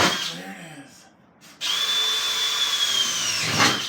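Power drill boring a hole through a bus roof, starting with a brief whir, then a long steady high-pitched grind through the metal, close and loud.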